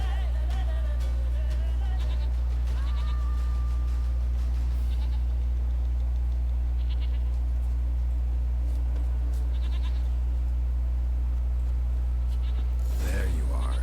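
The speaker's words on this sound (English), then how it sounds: "eu escutei a cabra aqui" A goat in The Witcher 3 bleats a few wavering calls early on, over a loud, constant low game hum, with a player's voice talking faintly in places.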